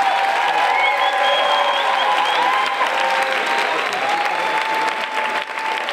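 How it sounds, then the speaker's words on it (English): Dense, sustained applause and cheering from a crowd at a house dance battle for a dancer, loud and continuous throughout, with whistles and shouts mixed in. "Make some noise for Kyle"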